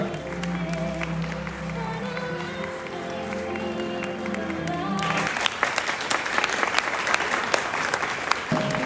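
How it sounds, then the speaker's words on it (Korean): Wedding guests applaud the bride and groom, steady crowd clapping first under sustained music tones, then growing louder and sharper once the music stops midway. "다시 한번 축복의 박수 보내주시기 바랍니다"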